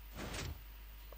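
A door in Minecraft opens with a single short, soft sliding swish, faint and alone, followed by quiet.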